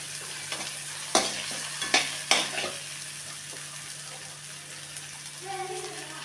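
Carrots and beans sauté in a pan with a steady sizzle while being stirred. Three sharp utensil knocks against the pan stand out early on.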